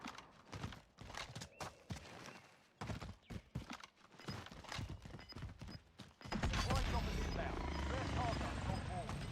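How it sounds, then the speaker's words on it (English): Supply helicopters in the video game Warzone: someone talks at first, then a loud, steady rotor-and-engine roar swells in and dominates the rest of the clip. "Oh god, not supply choppers."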